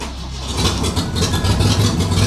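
An old Ford Capri V6 engine turns over by push-button start and catches, settling into a loud, rough rumbling idle that pulses steadily close by.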